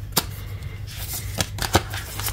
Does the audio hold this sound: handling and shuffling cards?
yes